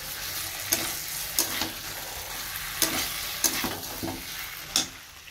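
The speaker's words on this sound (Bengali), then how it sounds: "এখানে চিকেনটা কষা হচ্ছে" Chicken sautés in a pan with a soft, continuous sizzle, broken every second or so by sharp scraping knocks of a spatula stirring against the pan; no one speaks.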